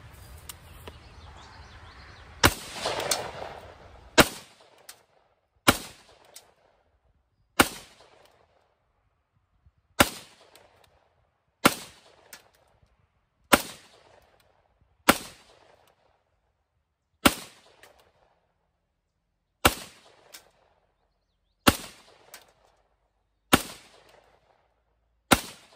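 A rifle firing 5.56 cartridges outdoors: about a dozen loud, sharp single shots spaced roughly two seconds apart, each with a short decaying echo, over quiet background.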